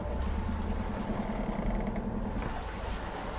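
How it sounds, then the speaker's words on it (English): The inboard engine of a Beneteau Oceanis 51.1 sailing yacht idles at the dock, a low, steady rumble close by with some wind and water noise over it. "Now that we have the engine running"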